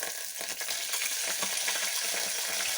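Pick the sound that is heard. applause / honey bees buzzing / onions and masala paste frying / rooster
onions and masala paste frying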